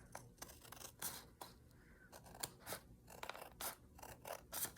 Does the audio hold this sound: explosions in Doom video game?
no